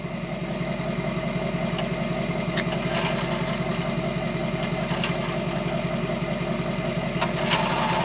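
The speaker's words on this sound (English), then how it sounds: "Let it warm up for a second." A small tractor engine idles steadily while warming up, a continuous low, even chugging throughout with faint metallic ticks and clatter on top, close and loud with no talk.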